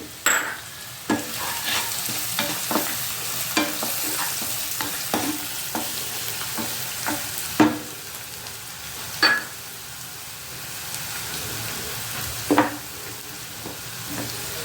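Chili powder and coriander powder sizzling in a pan of oil with brinjal, a steady frying hiss broken by frequent sharp spoon scrapes and stirring knocks, close and fairly loud, with no talking.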